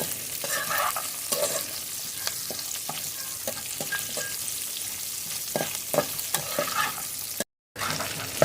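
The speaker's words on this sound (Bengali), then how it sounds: "পেঁয়াজগুলো সামান্য নরম হওয়া অবধি একটু ভেজে নেব।" Onions frying until soft in a pan for chilli chicken and fried rice, a steady sizzle marked by repeated scraping strokes of a spatula, with a brief dropout near the end.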